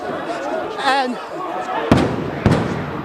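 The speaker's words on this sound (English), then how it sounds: "stun grenades have now just gone off" Two sharp, loud bangs from stun grenades go off at a riot outside parliament as police clash with protesting students, rising over constant crowd noise and shouting.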